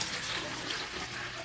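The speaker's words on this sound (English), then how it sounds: "You take the tea bags out and pour the tea" Brewed tea pours into a gallon jug in a steady, close splashing stream that lasts a second or two.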